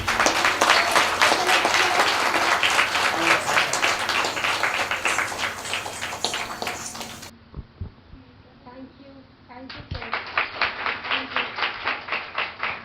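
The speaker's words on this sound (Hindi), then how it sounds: "सभी परफॉर्मर्स के लिए जोरदार तालियां।" Audience at a Kathak dance recital clapping loudly for the performers, a dense burst that drops out briefly, then returns as rhythmic unison clapping.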